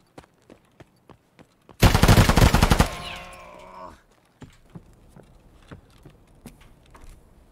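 Video game gunfire: a loud burst of rapid automatic shots lasting about a second, ringing off into a fading tail, framed by scattered sharp clicks and taps before and after.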